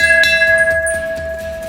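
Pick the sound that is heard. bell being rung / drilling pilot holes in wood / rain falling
bell being rung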